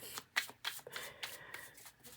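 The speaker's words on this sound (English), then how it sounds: "I'm not gonna do a million shuffles." Tarot cards are shuffled softly by hand in a quick series of light, papery slaps and flicks, quiet and close, with no voices.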